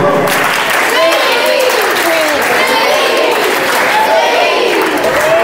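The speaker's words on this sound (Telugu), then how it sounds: "ఒకసారి రాకెట్ క్లాప్స్ గో." Applause from an audience of school children at a first aid awareness programme in a government high school, a dense steady patter of many hands mixed with crowd noise and voices throughout.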